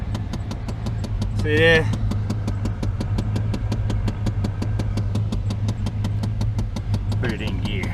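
A car engine treated with Seafoam catches and settles into a steady idle, its even, rapid ticking pulse running loud and close throughout, while a person speaks briefly over it.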